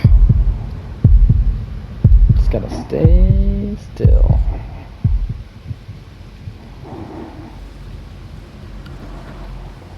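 A low thumping heartbeat pulses in the video game Little Nightmares 2, loud regular beats near the start that fade into a quiet hum, with a person speaking briefly over them.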